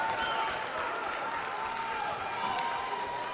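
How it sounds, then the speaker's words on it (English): A high school basketball crowd applauds and cheers during a third-place game between Richmond and Bloomington South, a dense steady wash of clapping and shouts throughout. "Crowd getting back into it."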